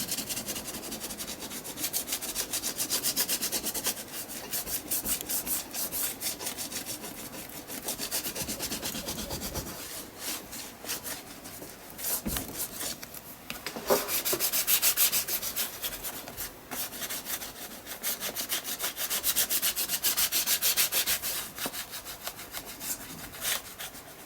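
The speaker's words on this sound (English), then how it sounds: "As you're rubbing it in with your fingers, it will start to warm up and it will start to dry." Colour paint being rubbed in with fingers, a close, steady dry rubbing and scratching in repeated strokes, with brief pauses and no talking.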